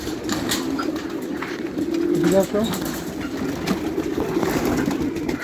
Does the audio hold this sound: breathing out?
no